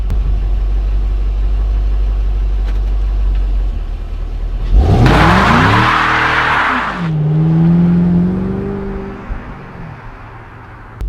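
A Ford Mustang GT on worn-out old tires launches hard. A sudden loud wheelspin roar and screech rises in pitch, then the engine revs up and down for several seconds. An idle rumble comes before it, and the revs settle afterward.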